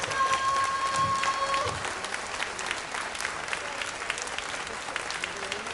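Applause from a crowd at Jōzenji Street Jazz Festival's station-concourse live stage in Sendai after a jazz quartet's set, steady clapping continuing after a held tone fades, with faint voices mixed in.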